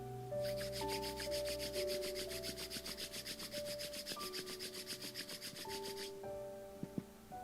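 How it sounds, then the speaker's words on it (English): Palms rubbing briskly against each other in a seated yoga pose, a close, rhythmic swishing that pulses steadily for several seconds over soft background music, then stops. "Start rubbing your palms against each other,"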